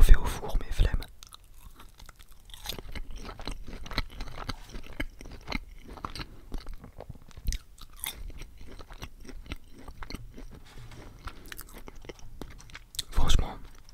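Close-up chewing of new McDonald's fries, slightly soft and not reheated, with wet crunching bites and mouth sounds between soft whispered speech.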